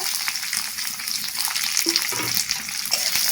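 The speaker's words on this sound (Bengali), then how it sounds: "দিয়ে রসুন পেঁয়াজগুলো হালকা করে আমি ভেজে নেব" Steady, bright crackling sizzle of garlic and onion frying in hot oil, continuous and close, with a faint utensil scrape now and then.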